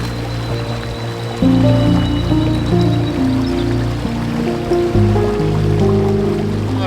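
Creek water flows through Tasmanian rainforest with a steady, close rushing and bubbling, rising a little louder partway through and continuing evenly with no voices.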